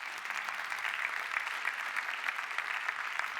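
Applause from an audience at an e-health awards ceremony, a continuous even patter of many hands clapping, slightly distant and moderately soft, with no voices over it.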